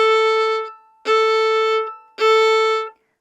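Three separate bowed violin notes, each beginning with a crisp catch as the bow hair hooks the string, then ringing cleanly for under a second before stopping, close and alone.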